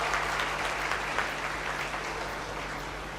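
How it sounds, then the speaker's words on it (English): A large audience applauds steadily at a university orientation day, a dense and even wash of clapping that holds at the same loudness throughout, with no talking. "I request the audience to give a huge round of applause."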